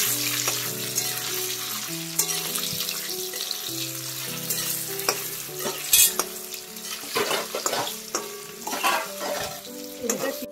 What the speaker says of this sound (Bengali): আর এইদিকে মা লুচি বানাচ্ছে আর ভাজছে